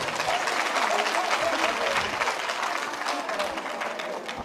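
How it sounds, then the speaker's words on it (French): Loud, sustained applause from a live show crowd, a dense wash of clapping with cheering voices mixed in, constant throughout. "je voudrais vous demander de les applaudir très fort"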